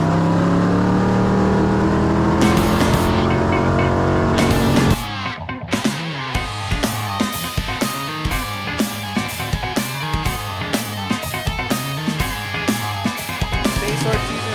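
Pure stock race cars at a dirt speedway, engines roaring loudly together, then rapid passes and revving surges rising and falling as the cars go by, with a commentator's voice.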